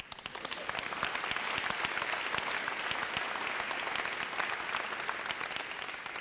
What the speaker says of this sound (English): is that worth a round of applause?